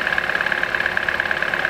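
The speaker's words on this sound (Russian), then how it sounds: "Завел двигатель." A 1.4-litre Opel Corsa D engine idling steadily right after starting, heard up close as a loud, even running drone with a fast regular pulse and no other sounds.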